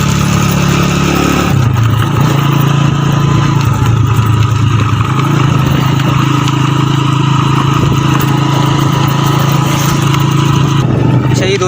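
Tractors run in a cattle market area at Sohrab Goth cow mandi in Karachi, a loud, close, steady engine drone with a low mechanical hum holding throughout.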